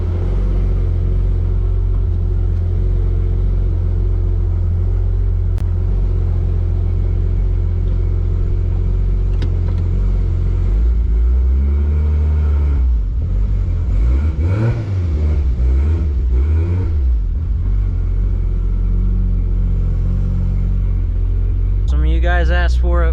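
Inside a Toyota Supra, the engine drones as a loud, steady rumble, then rises and falls through revving acceleration with a throaty surge near the end, heard close up from the cabin.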